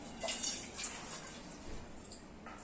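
A milk vessel washed under a running tap at home, soft splashing and trickling water with a few light clinks, fairly quiet throughout.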